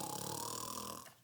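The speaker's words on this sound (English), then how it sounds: "The snore still roared" A loud, rough snore, one drawn-out rasping breath that fades out near the end, with no talk.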